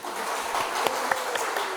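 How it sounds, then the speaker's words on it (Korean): A church congregation applauds, a soft, distant patter of many hands clapping with a few sharper claps standing out, steady throughout without talk. "박수 한번 쳐주십시오."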